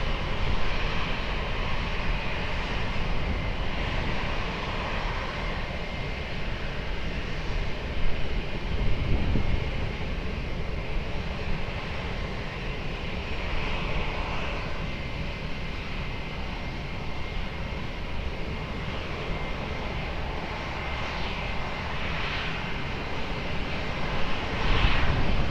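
An Air Portugal airliner takes off from runway 20 at Lisbon Airport, its engines a steady, broad roar that stays loud and sustained without letup.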